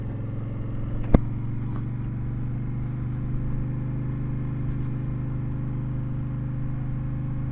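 Honda Fury motorcycle on a test ride, a steady low engine drone with a sharp click early on and a slight swell as it picks up speed.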